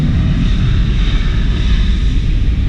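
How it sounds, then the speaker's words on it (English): An American Airlines plane flying overhead near a coach park, a loud, continuous roar of aircraft engines with a broad low rumble that holds steady throughout, no voices. "Why the American plane they make so much noise?"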